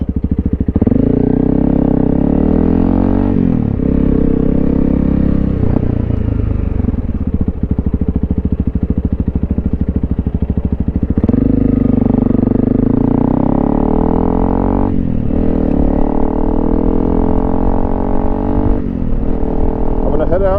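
A Honda CRF300L Rally motorcycle engine drones steadily at close range, pitch rising and falling with throttle changes, while a rider talks over it.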